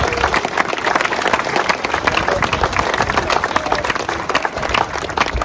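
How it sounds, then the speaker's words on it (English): Audience at a car-show awards ceremony giving a big round of applause, a dense, steady burst of clapping from a nearby crowd lasting several seconds. "a big round of applause for Paul Anderson, Simca."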